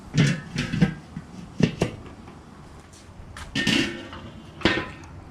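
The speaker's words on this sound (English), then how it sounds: "And then we're going to close the lid again." A Weber kettle grill's metal lid is handled and set shut over flank steak, giving several clanking knocks and scrapes in uneven bursts, close and fairly loud.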